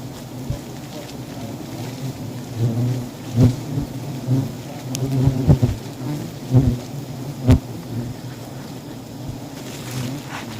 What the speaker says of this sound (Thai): ฝนตกทุกวันก็จะประมาณนี้นะครับ